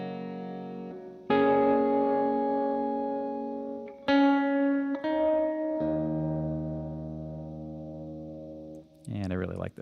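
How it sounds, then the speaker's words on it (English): Electric guitar through a Gamechanger Audio pedal set to slow tremolo, several strummed chords ringing out and decaying in turn, with a soft pulsing swell over each sustained chord. "So here's with the much slower trem speed."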